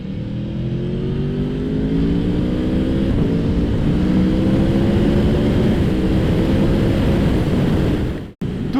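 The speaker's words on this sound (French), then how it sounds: "pour que vous entendiez mieux le son du moteur" An 1100 cc, 175 hp motorcycle engine drones loud and close while revving, its tone climbing steadily for several seconds before cutting off abruptly near the end.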